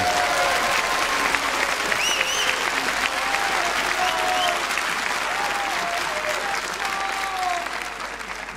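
A graduation ceremony audience applauding and cheering loudly and continuously, with scattered whoops and shouts rising above the dense clapping for several seconds before it starts to ease slightly toward the end.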